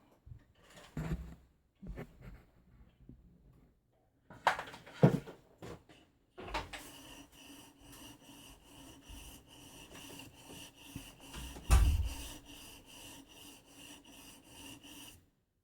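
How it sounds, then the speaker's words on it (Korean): A shoemaker's knife being sharpened, with a few scraping strokes followed by a long steady rasping grind, close and moderately loud, with a sharp clatter near the end. "다시 갈아 볼게요."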